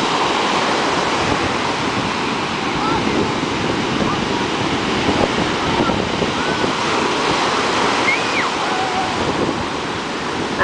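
Sea waves at Palm Beach roar in a loud, continuous wash of surf, close and unbroken, with wind buffeting the microphone throughout.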